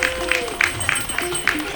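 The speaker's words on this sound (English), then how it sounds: "Let's give them a big round of applause." Wedding guests at a Hindu-style ceremony break into applause, several distinct loud claps standing out in an uneven rhythm over a murmuring crowd, with a voice talking underneath.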